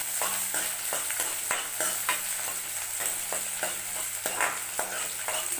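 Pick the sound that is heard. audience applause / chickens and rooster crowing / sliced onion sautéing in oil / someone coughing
sliced onion sautéing in oil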